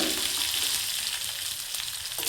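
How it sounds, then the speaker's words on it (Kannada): Mustard seeds, cumin, dried chillies and crushed garlic sizzle in hot oil for sambar, giving a steady, close, crackling hiss with no voices. "ಎಣ್ಣೆ ಚೆನ್ನಾಗಿ ಕಾಯ್ದ ನಂತರ ಸಾಸಿವೆ, ಜೀರಿಗೆ ಹಾಗೆ ಒಣಮೆಣಸಿನಕಾಯಿ, ಜಜ್ಜಿಟ್ಕೊಂಡಿರ್ತಕ್ಕಂಥ ಬೆಳ್ಳುಳ್ಳಿನ"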